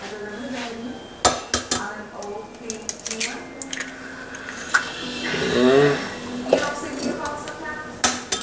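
Two eggs cracked and dropped into buttermilk cornbread batter, with sharp clicks and taps of shells and utensils against a bowl, a short wet squish in the middle, and a voice speaking in between.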